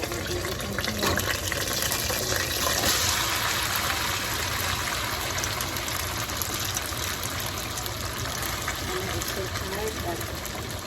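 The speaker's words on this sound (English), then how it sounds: "I'm gonna put water over everything here." Water poured from a kettle over couscous in a kitchen, a steady continuous gushing splash lasting throughout, fairly close, with a low background hum.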